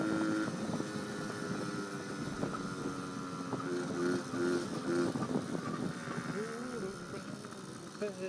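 A 1980 Honda Express moped engine runs continuously, its pitch wavering and stuttering as it idles and revs unevenly, starting to four-stroke, with wind buffeting the microphone and a voice talking.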